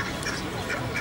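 A brief burst of duck quacking, several nasal calls close together.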